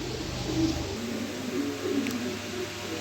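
A pair of red checker pigeons coo softly at close range, low murmuring calls repeating through a steady background hum with no talk.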